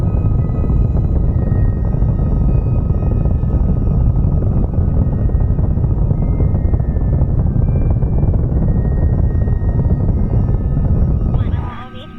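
A muffled rocket engine throttling down in Kerbal Space Program, its steady dense roar holding loud for about eleven seconds before cutting away sharply at the end.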